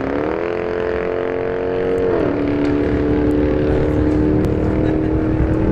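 A drag race at a motorsports park pits a turbo Chevrolet Cruze against a Dodge Durango SRT 392. Loud, steady engine roar fills the air, and a sustained tone sweeps downward partway through, as if an engine shifts gears under hard acceleration.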